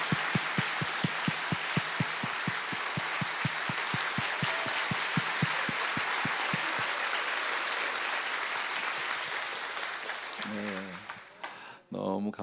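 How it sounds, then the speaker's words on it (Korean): A church congregation at a revival meeting claps in a strong rhythmic unison beat that loosens into scattered applause and fades, followed by a voice speaking near the end. "크게 박수 한번 하겠습니다"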